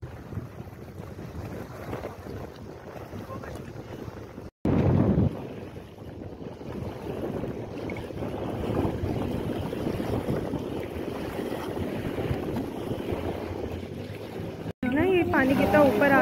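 Boat ride on the Govind Sagar lake in Himachal, with steady wind rushing over the microphone and waves washing against the hull, a continuous broad roar broken by two brief dropouts.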